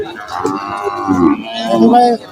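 A cow moos at a cattle market in Narayanhat, Bhujpur, Fatikchhari, Chattogram, a loud, close, drawn-out bellow with shifting tone lasting about two seconds before cutting off.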